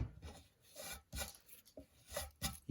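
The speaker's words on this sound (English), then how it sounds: "You can see how the chisel is hitting the back of the housing." A hand chisel pares wood to cut a butt hinge housing, giving short, faint scraping and rasping strokes in a loose rhythm with brief pauses, close by and with no talk.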